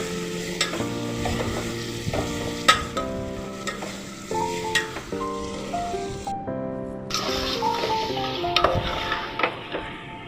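Green chicken being stirred in a pan, sharp spoon scrapes and a light frying sizzle recurring at an uneven pace beneath background music.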